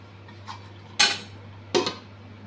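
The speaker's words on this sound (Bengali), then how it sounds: "এখন একটু ঢাকা দিয়ে রাখবো।" A lid goes onto a pot of prawn and potato curry with two sharp metallic clanks, a faint tap before them, over a steady low kitchen hum.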